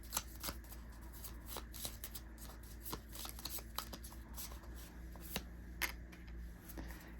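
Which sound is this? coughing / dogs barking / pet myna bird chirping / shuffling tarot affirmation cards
shuffling tarot affirmation cards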